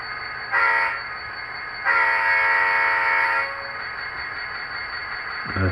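Model train locomotive horn from a DCC sound decoder sounds two blasts, a short one and then a longer held one, over a steady high-pitched hum from the small speaker.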